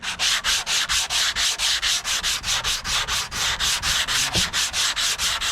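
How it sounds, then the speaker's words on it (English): Hand sanding a 3D printed wide fender for a Honda CRX with an 80 grit sanding block, a close, loud, steady run of rhythmic back-and-forth rasping strokes, about four per second, with no talking. "I got 80 grit on a block here"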